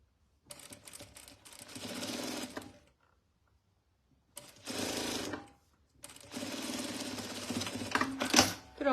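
A sewing machine stitching a short backstitch on a fabric wallet, three close bursts of rapid mechanical whirring separated by brief pauses, the last burst longest.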